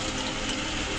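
Water poured steadily into a pot to make Peshawari kheer, a close, continuous rushing splash of even loudness with no voices.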